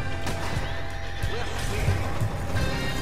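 Horse neighing and whinnying in the video game Red Dead Online, with hoof clip-clops and steady game ambience underneath; the whinny stands out clearly over a dense background, and faint voices may be present.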